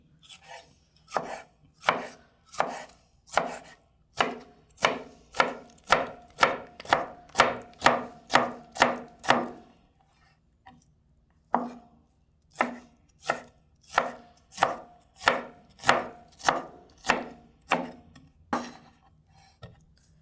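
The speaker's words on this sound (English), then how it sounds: "while we're chopping this" Purple eggplant is chopped on a cutting board with a knife, a long run of steady, evenly spaced knocks, close and crisp, pausing briefly before a second run continues at the same pace.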